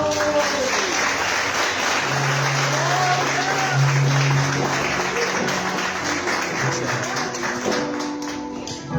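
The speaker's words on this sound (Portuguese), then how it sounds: "Aplauda o Senhor." Church congregation clapping steadily and loudly throughout, with sustained music tones and voices underneath, fading slightly near the end.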